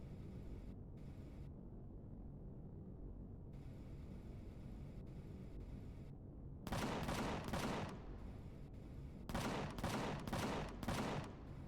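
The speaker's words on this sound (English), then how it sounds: "Cannon turret, please." Cannon turret in the space game Empyrion firing in two rapid bursts of heavy, booming shots over a low ambient hum, with quieter mechanical clicks before the volleys.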